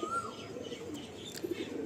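A female Mundi Sada pigeon, a breeding hen, coos softly and continuously in a low murmur while being held in the hand, with faint background noise.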